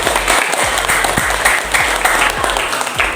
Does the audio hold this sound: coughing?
no